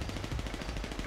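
Rapid automatic gunfire in GTA 5 roleplay, a loud, dense burst of evenly spaced shots that fills the whole moment without pause.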